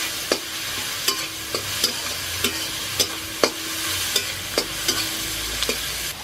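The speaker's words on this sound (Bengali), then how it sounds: "দিয়ে দিলাম আদা কুচি, একটু ভালো করে ভেজে নেব।" Chopped ginger frying in hot oil for an eggplant and small hilsa curry, a continuous close sizzle broken by regular spatula scrapes, roughly one every half second.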